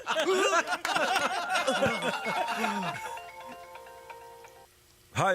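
A mobile phone rings with an incoming call, a loud, repeating melodic ringtone that plays continuously, then thins to a steady tonal pattern before stopping, with a voice briefly breaking in at the very end.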